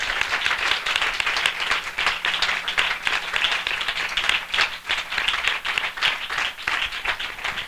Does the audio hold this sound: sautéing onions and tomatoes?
no